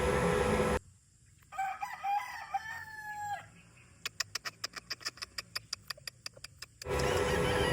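A Gilmore broodstag rooster crows once, its long harmonic call rising and falling at close range, followed by a quick series of sharp, regular clicks or taps.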